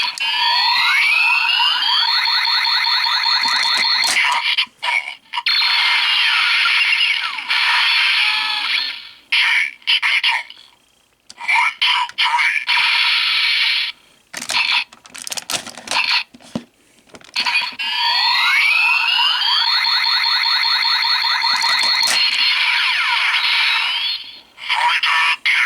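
A Dark Kabuto Zecter collectible toy transformation belt plays its henshin sound: loud electronic chimes and rising beeping melodies in bursts, separated by short pauses with handling clicks, with the sequence repeating.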